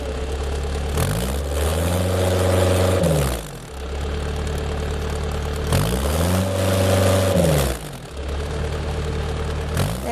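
A farm machine's engine running while being readied for work, a steady low idle that rises twice in long revving surges and then falls back.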